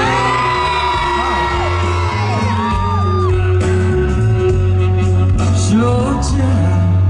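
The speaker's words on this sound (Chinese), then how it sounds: "全场一起再一次尖叫声" A large outdoor concert crowd at a temple evening festival in Tainan whoops and screams together, loud and sustained, with sung or amplified voices layered over the cheering.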